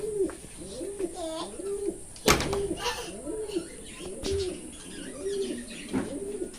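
Several pigeons coo steadily in soft, repeated rolling calls close by in a coop of stacked cages, with a sharp bang and faint chirps mixed in.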